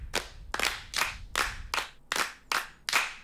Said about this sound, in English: which is literally me clapping into a microphone and then layer them.